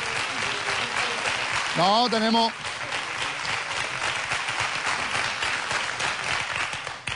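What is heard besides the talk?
studio audience applause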